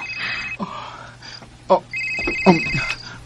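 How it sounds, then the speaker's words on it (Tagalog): A telephone rings indoors with a loud, repeated electronic trill that starts, pauses and starts again. A person speaks between the rings. "si Dina nanawag"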